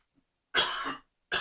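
A person coughs twice, a long raspy hack followed by a shorter second burst, close and loud against silence.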